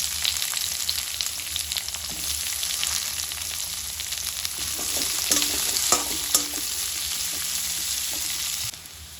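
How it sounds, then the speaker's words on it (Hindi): Onions roasting in a hot pan, a steady sizzle running throughout with a few scraping stirs of a utensil partway through, fairly close and alone without voices. "इसमें मैं ऐड करूँगी प्याज और इसको अच्छे से रोस्ट करके लेना है"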